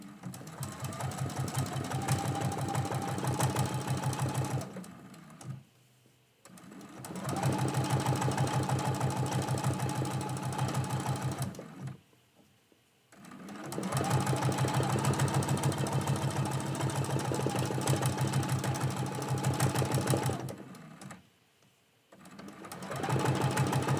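A sewing machine stitches a quilt block in three long steady runs of rapid, even needle clatter, stopping briefly between runs, close and clear with no talking.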